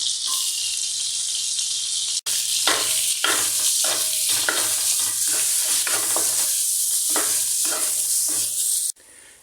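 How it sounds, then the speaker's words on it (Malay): Garlic sizzles steadily in melted margarine in a pan, a bright continuous hiss broken by repeated scraping stirs, close and loud with no one speaking. "Sekarang kita sautekan kita punya bawang putih kita"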